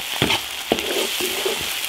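Ginger, garlic, chili paste and spices stir-fried in a large iron wok give a loud, continuous sizzle broken by regular scraping strokes of the spatula, about four in quick succession.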